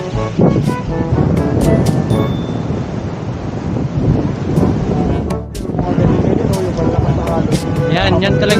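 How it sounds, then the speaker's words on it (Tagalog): Strong ocean waves pound a beach below the Kaybiang Tunnel, a loud continuous roar of surf churning throughout, with wind buffeting and voices talking over it. "grabe lakas ng alon"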